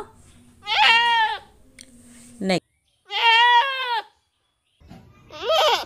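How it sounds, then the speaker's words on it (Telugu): A goat bleats three times, loud and close, each a wavering, quavering cry separated by short pauses. "బక్రీ, మేక, గోట్ చేసే సౌండ్ ఏంటో తెలుసా?"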